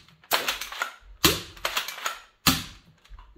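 A toy foam blaster fires after a jam, three sharp mechanical snaps spaced about a second apart, each followed by brief rattling clicks, close and fairly loud with no talking.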